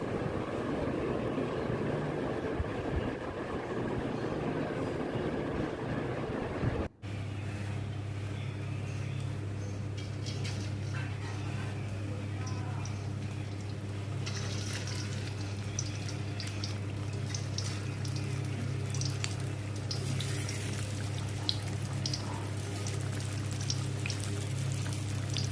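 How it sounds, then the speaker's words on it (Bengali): Taro (kochu) fritters deep-fry in a pot of oil with a steady, dense bubbling sizzle and a low hum, continuous and close, briefly cut partway through. "ডুবো তেলে কচু বড়াগুলোকে ভেজে"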